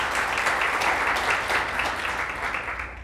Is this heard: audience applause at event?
yes